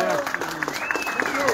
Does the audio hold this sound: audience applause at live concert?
yes